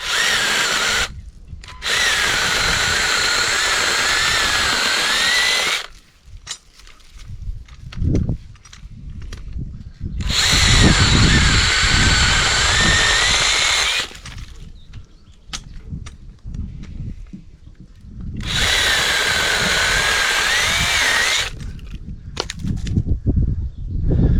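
A cordless mini chainsaw cuts wood in three long bursts of loud, high-pitched whining motor, with brief quieter pauses and handling noise between the cuts.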